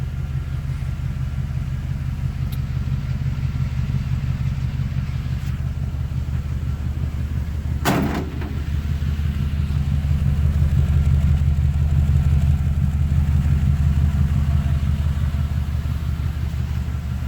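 Engine of a 1948 Mercury truck with true dual exhaust idles steadily with a deep, even low rumble, briefly dips around a sharp transient midway, then carries on a touch louder, close by, with no talk.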